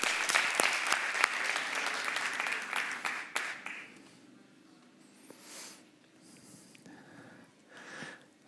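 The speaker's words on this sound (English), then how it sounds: "And yes, applause." Conference audience applause breaking out as a volunteer heads on stage at a web development talk, a burst of clapping for about four seconds that fades out, then a few faint scattered noises in a quiet room.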